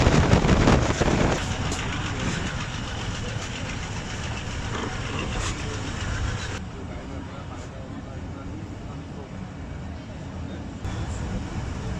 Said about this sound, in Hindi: ज़करिया एक्सप्रेस मट्टी का तूफान बर्पा करते हुए